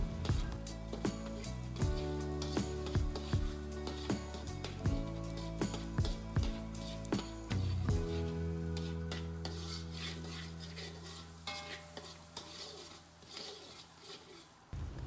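Egg frying in a pan for simple fried rice made without onion is broken up with a spatula. A steady sizzle runs under repeated scraping and tapping strokes on the pan, close and continuous.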